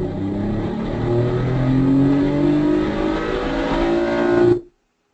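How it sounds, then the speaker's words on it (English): A car engine runs up smoothly through rising revs, a steady loud drone carrying wind rush and tire roar, recorded from inside the vehicle before cutting off abruptly. "This is an example of the engine run-up."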